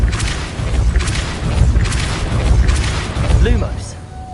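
Booming Depulso spell blasts in the video game Hogwarts Legacy land in a steady run of four or five close, forceful bursts over low rumble, and a short voiced sound breaks in near the end.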